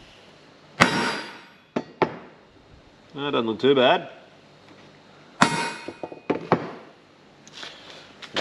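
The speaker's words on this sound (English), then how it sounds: "So usually it just means I center punch the hole off center." Hammer blows on a center punch set into metal to mark a hole, a few sharp bright metallic strikes spaced apart, with someone speaking briefly between them.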